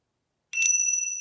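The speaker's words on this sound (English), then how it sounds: "I think I'm going to do my bells." Small bells struck and left ringing with clear, sustained tones that hold steadily and fade slowly, heard alone without talk.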